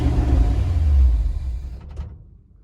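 A carbureted car engine roars under throttle with a deep rumbling rev that swells then quickly dies away as the engine stalls, leaving near silence.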